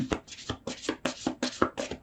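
Tarot cards are shuffled by hand in a quick, regular series of about eight riffling bursts, close and crisp.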